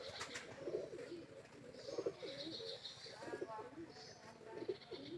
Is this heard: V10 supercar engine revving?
no